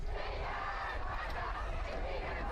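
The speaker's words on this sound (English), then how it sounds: "Crowd is on their feet and alive, folks." A high school varsity football crowd at Westerly versus Barrington roars continuously from the stands, a dense wash of cheering and shouting voices that stays loud and unbroken throughout.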